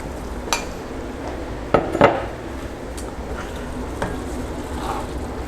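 Crawfish étouffée being stirred in a pot, with a few sharp clinks of a spoon against the side and soft scraping over a low steady background.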